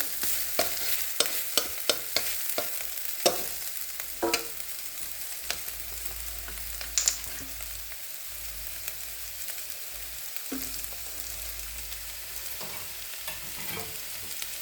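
Vegetables softening in a frying pan for a bread butter sandwich hiss with a steady low sizzle, while a spatula scrapes and knocks against the pan in irregular bursts, busier at the start and sparser later.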